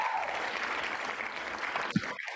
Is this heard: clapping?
yes